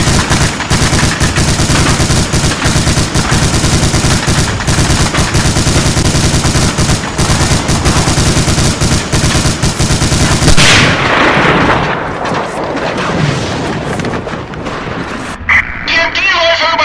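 MG-42 machine gun fire in a Lego D-Day battle animation, loud continuous rapid bursts close up for about ten seconds, then fading into rumbling battle noise with shouted voices.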